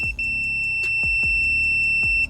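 A multimeter's continuity beep: a continuous high-pitched electronic tone sounds loud and close for about two seconds, with a few faint clicks and thumps underneath.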